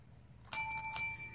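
A bicycle-style bell rung twice by a trained dog on command, two bright metallic dings about half a second apart, close and clear against a quiet room.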